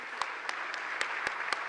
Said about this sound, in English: Can we give Ivanka a very big round of applause for who she is and what she does?